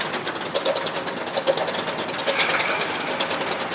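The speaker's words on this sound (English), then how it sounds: "DTF printer number 1, is in a similar situation, printing 28 different copies of this 22 by 60 inch gang sheet" A DTF printer runs a 22 by 60 inch gang sheet, giving a steady mechanical whir with repetitive ratcheting clicks and carriage movement throughout, moderately loud and with no voices.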